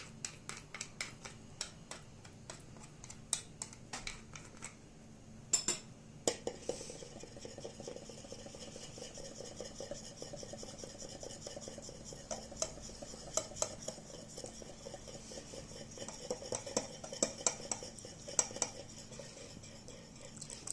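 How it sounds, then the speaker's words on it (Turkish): A utensil whisks ingredients in a bowl for bone broth soup, making steady rapid clinking and scraping strokes close by, with occasional louder knocks against the bowl rim. "Bu şekilde iyice çırpacağız arkadaşlar bunu."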